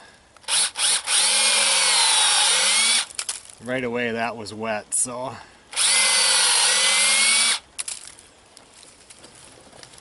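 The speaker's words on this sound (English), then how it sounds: "I drill a hole, I do a slight angle down" A power drill bores a hole at a slight downward angle into a wet, liquid-filled spot, running in two loud sustained bursts separated by someone speaking briefly between them.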